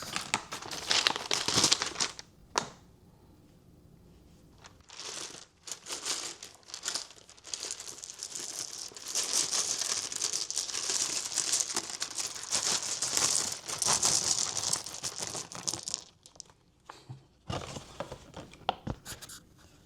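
Dice tumble out of a cloth dice bag in bursts of close, crisp rattling and clattering that come and go over several seconds, with short quiet gaps between. No one talks.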